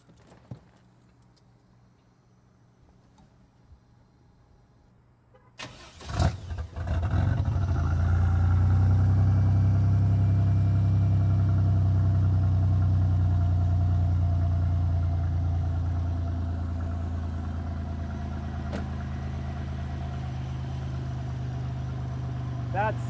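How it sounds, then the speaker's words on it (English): Quiet background, then a custom rat rod's engine cranks and catches with a few sputters before settling into a loud, steady, low idle that eases slightly. "Can you start the engine up?"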